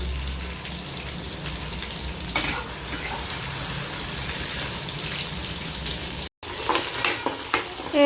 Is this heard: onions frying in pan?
yes